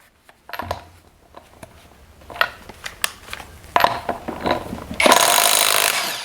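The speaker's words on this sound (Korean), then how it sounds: "미드토크로 야무지게 쪼은 상태에서 이번에는 임팩 렌치 가볼게요" A budget impact wrench, roughly 60,000-won class, loosening a bolt tightened at mid torque: short scattered clatters and taps build into a loud, sustained hammering rattle near the end, close up with no talk.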